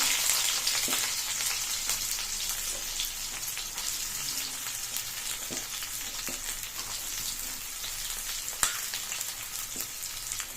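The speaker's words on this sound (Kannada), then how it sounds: "ಎಣ್ಣೆ ಹಾಕ್ಕೊಂಡಿದ್ದೀವಿ ಸೊ ಇವಾಗ ನಾವು ಕಟ್ ಮಾಡಿ ಇಟ್ಕೊಂಡಿರೋ ಈರುಳ್ಳಿ ಹಾಕೊಳ್ಳೋಣ" Chopped onions frying in hot oil for a mutton fry give a dense, continuous crackling sizzle that stays close and steady throughout, with a few sharper pops and stirring sounds and no voices.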